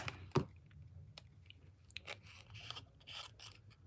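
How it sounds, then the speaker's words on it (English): Scissors snip a small strip of excess paper during card-making, giving a few faint, sharp cuts close up in a quiet room. "so I'm just going to give that a quick little trim right there."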